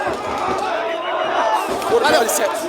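Passo Fundo football supporters celebrating in a stadium, a dense roar of crowd noise and shouting in the background while someone speaks close over it.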